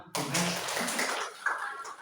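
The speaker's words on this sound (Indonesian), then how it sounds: "Tepuk tangan." Students in a classroom break into sudden applause, a burst of quick, mid-distance handclaps that starts abruptly and carries on steadily for a couple of seconds, with faint voices underneath.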